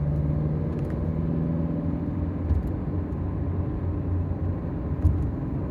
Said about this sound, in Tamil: இப்போ நம்ம ஒரு கியர் டவுன் பண்ணி ப்ரெஸ் பண்ணுவோம்.